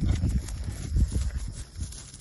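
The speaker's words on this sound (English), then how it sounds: "is get our horse into a trot." A Western pleasure horse trots at a slow jog, its hooves striking the ground in a steady, fairly close clip-clop rhythm, with no talking.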